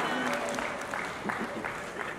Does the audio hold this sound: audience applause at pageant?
yes